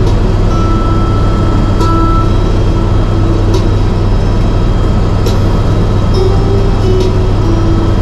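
A helicopter flying over Niagara Falls makes a loud, steady engine and rotor drone from inside the cabin, with a constant low rumble throughout and no talking.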